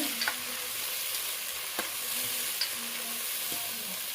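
Onions, green chilies, mint and coriander frying for Hyderabadi mutton biryani, a steady close sizzle broken by several sharp clinks of a spoon stirring against the pot.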